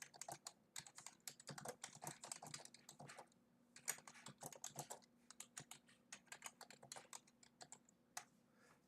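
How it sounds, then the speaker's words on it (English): Fast, continuous typing on a computer keyboard in an educational classroom, with dense clusters of close, crisp key clicks and brief pauses between bursts, heard alone without talk. "Sometimes we just got to talk through typing, right?"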